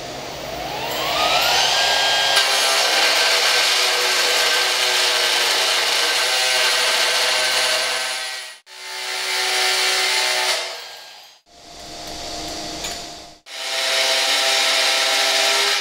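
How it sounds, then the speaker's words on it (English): An AGP high-frequency beveling machine cuts a 45-degree bevel into a workpiece, giving a loud, high-pitched grinding whine that holds steady, then briefly dips twice before resuming. "Now we'll perform a 45 degree bevel."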